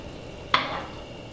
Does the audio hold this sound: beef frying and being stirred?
yes